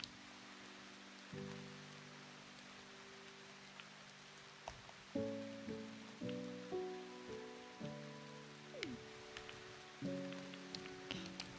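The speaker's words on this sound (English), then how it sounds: "If it does rain every day this season" Steady rain falls in the farming video game Echoes of the Plum Grove during autumn, a soft continuous hiss under calm, gentle melodic game music with plucked notes.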